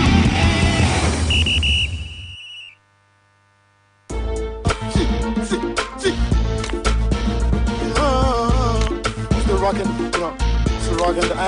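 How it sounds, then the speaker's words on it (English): A referee-style whistle sound effect inside a football radio show jingle, a short shrill tone over music, then a brief silence before loud, busy music resumes. "The sound of the whistle."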